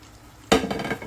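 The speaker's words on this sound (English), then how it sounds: "Now I'm going to add in my steak." Steak pieces drop into a thickened pepper steak sauce in a pan: after half a second of quiet, a sudden wet plop and clatter lead into a bubbling sizzle and stirring scrape that carry on to the end.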